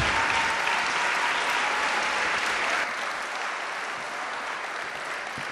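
Audience applause at a ZOP 2014 event, a dense, steady wash of clapping from a large crowd that holds loud throughout and eases slightly toward the end.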